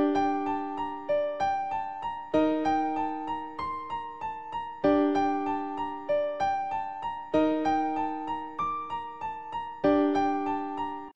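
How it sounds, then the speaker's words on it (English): Clean, sterile virtual instrument music: bright plucked keyboard-like notes in a steady, repeating melodic pattern, each note clearly attacked and decaying, with no voice. "take virtual instruments with a very clean and sterile sound"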